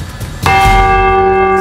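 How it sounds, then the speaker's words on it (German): A church bell in an abandoned church strikes once and rings on, its bright harmonic overtones sustaining loudly after a short rumble of background noise. "Die Glockensteuerung."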